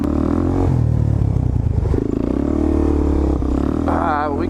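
Supermoto motorcycle ridden on muddy ground after a rain storm: loud, close engine revving and throttle blips with rattly mechanical clatter, rising to a whine near the end.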